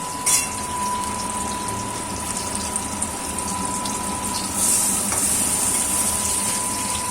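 Batter poured into a hot pan of oil to fry shrimp-stuffed ash gourd, giving a steady close sizzle and bubbling throughout with a faint pouring gush, no talking.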